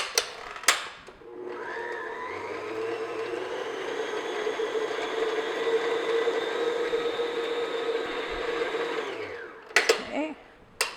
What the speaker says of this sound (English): I'm just going to beat this for about a minute or so, just to soften the butter until it's creamy